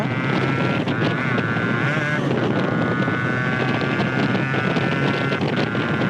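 A Yamaha RX 135 motorcycle is ridden on the move and shifts up through the gears without the clutch; the engine note climbs and drops under constant loud wind rush.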